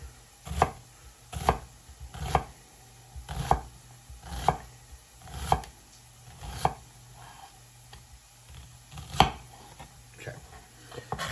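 Knife chopping onion on a cutting board for a homemade spaghetti sauce: a steady series of about a dozen crisp, close thumps at roughly one per second, with no talk.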